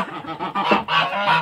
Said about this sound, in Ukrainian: Випустила птиці